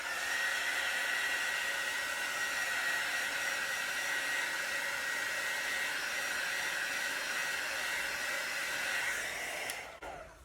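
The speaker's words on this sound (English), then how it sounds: "I'm just going to hit it with the heat tool again just to clarify some more cells." A heat tool blows hot air across poured acrylic paint in a continuous, loud, even whoosh with a steady whine, close up and with no talk, cutting off at the very end.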